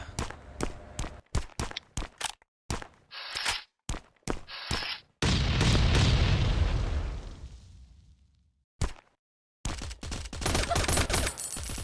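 Gunfire in the survival video game Last Island of Survival: rapid bursts of shots and single cracks, then a long roaring explosion-like blast that fades out before more fire resumes, loud and close, with no talk.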